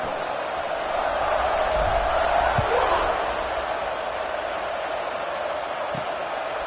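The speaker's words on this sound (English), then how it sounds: "this crowd now ready to get behind them" Stadium crowd at an Iowa State versus Iowa football game roars as a broad, sustained wash of distant cheering that swells and then settles, steady and loud, with a few thuds.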